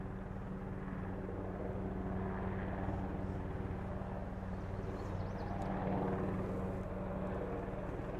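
A helicopter passes overhead near a bridge on a Dartmouth walk, a steady low rotor drone with a faint throb that swells slightly toward the end, heard at a distance.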